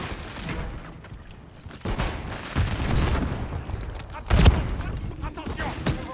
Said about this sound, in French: Je lance une grenade. Grenade lancée.